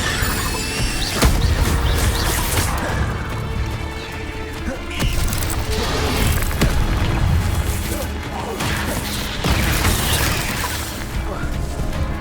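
Repeated Incendio fire spells cast in Hogwarts Legacy, a dense run of booming, crackling bursts and whooshes over a busy game soundscape, loud and continuous across the stretch.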